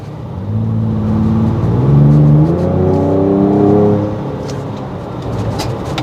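A second-generation Ford Ranger Raptor's V6 revs up through its exhaust in Baja mode, a loud throaty note climbing and falling over several seconds before settling into a steady drone.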